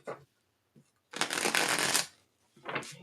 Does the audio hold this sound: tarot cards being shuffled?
yes